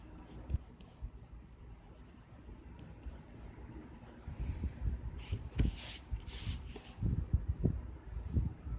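A colored pencil scratches across paper while adding color to a watercolor painting, with close, dry rubbing strokes that come in quick bursts and grow busier and louder toward the end, with no voices.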